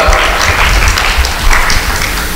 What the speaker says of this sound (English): So would you give them a big round of applause?